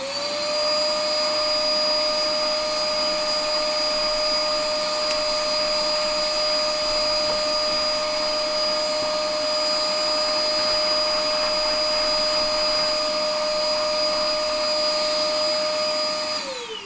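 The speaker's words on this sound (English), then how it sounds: "let's vacuum these" A vacuum cleaner runs steadily and loudly, cleaning the relay and motor boards of a 1973 Williams Triple Action pinball machine, its constant whine and airflow roar holding without pause.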